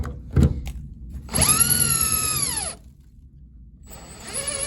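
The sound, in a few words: power drill drilling out an SFIC lock core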